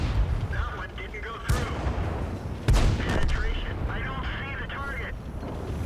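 Tank cannon shots in the video game World of Tanks, from a T71 American light tank firing on an enemy tank: two sharp booming blasts amid continuous engine rumble and game noise, with someone talking over them.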